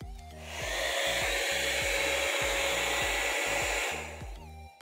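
A hair dryer heating a car window before fitting a chrome wind deflector whooshes steadily for several seconds, loud and close, with a constant airy roar and low hum before it switches off.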